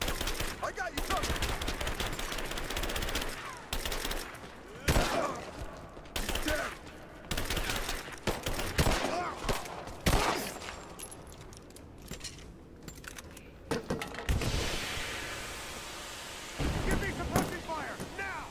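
Gunfire crackles through a combat scene in Rise of the Tomb Raider, bursts of rapid shots and single cracks coming in waves with brief lulls between.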